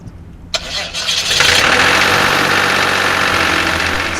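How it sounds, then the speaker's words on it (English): A diesel engine in a small aircraft, the Explorer Aero Ecoflyer, cranks over with a sharp click and then catches, quickly rising to a loud, steady running drone that holds to the end, with no talking. "turn the key and go."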